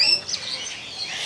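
Birds at a Taman Safari feeding chirp in thin, high tweets over a hazy background murmur, brief and moderately close.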